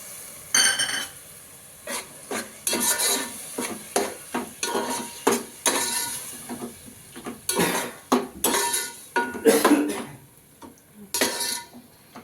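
A spoon stirs a cup of yogurt into a frying mixture in a pot for chicken biryani, making repeated loud scraping clanks against the metal in quick bursts, with a soft sizzle between the strokes.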